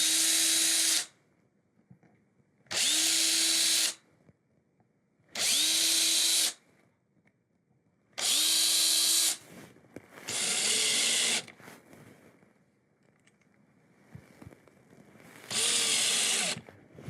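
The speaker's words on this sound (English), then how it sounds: "pre-drill the other 4 holes and install the other 4 screws" A power drill whirs in six short bursts of about a second each, pre-drilling holes and driving screws, separated by quiet pauses, close and loud.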